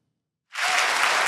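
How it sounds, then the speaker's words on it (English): Town hall audience breaks into applause after brief silence, a sudden loud wall of clapping that holds steady to the end. "Applause for the answer."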